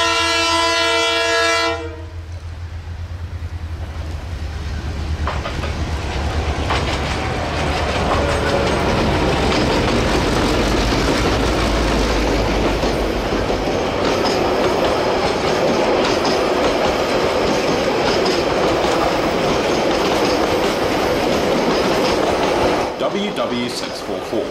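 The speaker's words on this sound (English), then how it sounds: "DBRs await departure with the mainline excursion train to pick up the passengers in Waiuku for the return journey to Auckland." Steam locomotive Ja 1271 with a mainline excursion train near Waiuku, New Zealand: a horn or whistle blast opens, then a loud, steady rumble and chuff of the train running close by for most of the stretch.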